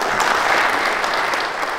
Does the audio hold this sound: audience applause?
yes